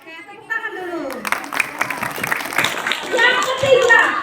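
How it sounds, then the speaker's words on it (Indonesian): A school group clapping hands in applause at a teacher-led positive culture sharing session in Indonesia, a scattered burst of claps building into steady, fairly loud applause, with talking mixed in at the start. "Oke, tepuk tangan dulu."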